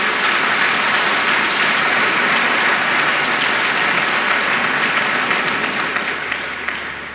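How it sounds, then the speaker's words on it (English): A debate audience applauds the participants in a long, steady burst of clapping that fills the room, then slowly thins out toward the end. "Can I have an extremely warm applause for Tarik, Nesh-Nash, Mr. Dijkhuizen and Jew"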